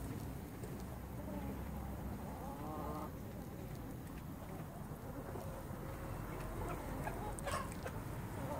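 Chickens and a rooster cluck softly in a farmyard, faint and fairly distant, with brief calls scattered over a steady low rumble of wind or rain.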